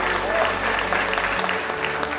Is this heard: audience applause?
yes